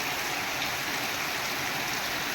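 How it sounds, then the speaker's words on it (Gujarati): Heavy rain hisses steadily over flooded farm fields with a rushing wash of running water beneath it, constant and fairly soft, with no voices or breaks. "બહુ વરસાદ ભયંકર વરસે છે"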